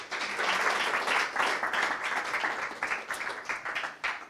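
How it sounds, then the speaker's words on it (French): Applause from a room of contest candidates at a thesis-presentation final as someone is called up, a dense, steady patter of many hands that rises quickly and fades slightly toward the end. "sous les applaudissements des candidates et candidats."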